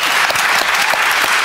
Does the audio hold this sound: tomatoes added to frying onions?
no